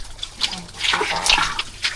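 Fresh spring water from a well in Loon, Bohol splashes and trickles nearby in uneven bursts, with some background voices.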